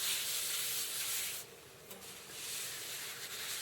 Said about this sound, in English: coating the cast iron with butter.